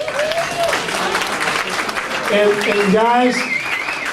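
Applause from a crowd at a meetup rolls on under someone speaking loudly into a microphone, with clapping and cheers mixing behind his voice.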